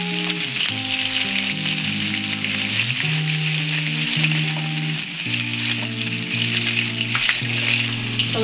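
Lamb chops with garlic and rosemary sear in a hot pan, giving a steady, loud, close sizzle and crackle that runs the whole time without a break, with a low hum under it.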